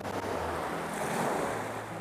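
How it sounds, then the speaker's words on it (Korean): Waves wash steadily onto the pebble shore of Mojini Beach on Hachuja, Chujado island, a continuous loud roar of surf and water over round stones, with no voices. "이 몽돌이 부서지는 소리, 파도와 몽돌이 만나는 이 순간."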